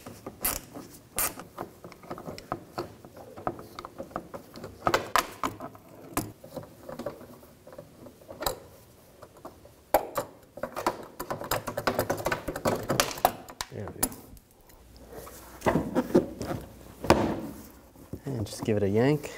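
A 7mm socket backing bolts out of the parking sensor trim on a 2007-2016 GMC Acadia, with quick clicking ratchet bursts and rattles close up, broken by pauses and someone speaking.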